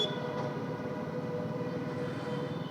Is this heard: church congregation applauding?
no